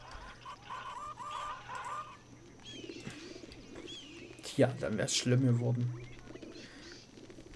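Pigeons and other fowl in Zoo Tycoon 2 coo and cluck in soft, near bursts, clustering in the second half while someone talks over the background.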